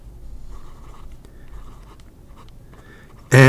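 A Xi Yun Han D6 fountain pen with a wet, bouncy nib writes across paper in short soft scratchy strokes, quiet and close, ending in a sudden louder bump.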